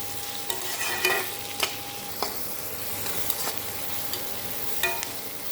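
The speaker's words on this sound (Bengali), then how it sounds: "যাতে পেঁয়াজটা তাড়াতাড়ি নরম হয়ে ভাজা হয়ে যায়।" Onions frying in a pan with salt added, a steady soft sizzle broken by several sharp scraping stirs from a spatula at irregular intervals, close by with no talk.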